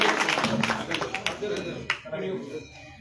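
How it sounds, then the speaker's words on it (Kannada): Applause rises from an audience at a village felicitation ceremony honouring a singer and religious speaker, a dense wash of clapping heard at moderate distance that thins toward the end, with voices talking over it. "ಜೋರಾದ ಚಪ್ಪಾಳೆಯೊಂದಿಗೆ."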